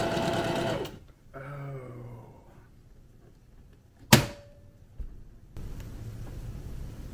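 A sewing machine stitches in short bursts: a close mechanical whir, a pause, a few slower stitches, then a sharp click and a longer run of stitching near the end.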